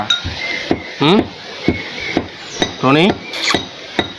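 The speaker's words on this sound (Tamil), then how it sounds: "தேங்காய் எண்ணெய் ஊற்றியாச்சு, இடிக்க போகிறோம்." A pestle pounds coconut chammanthi with coconut oil in a mortar, giving sharp rhythmic thuds about every half second, loud and close, with a voice talking in between.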